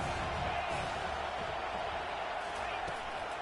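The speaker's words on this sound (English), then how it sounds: "Decibels rising as the crowd gets behind this defense on third down." A stadium crowd roars at a college football game in a video game, a steady, dense wall of cheering on third down that holds level throughout without a break.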